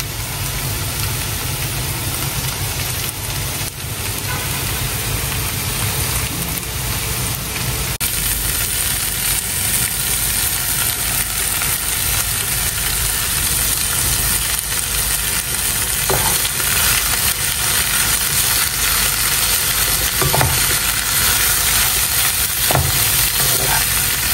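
Sisig sizzles loudly in a frying pan while it is stirred, giving a steady dense hiss throughout with faint scraping knocks from the utensil and no voices.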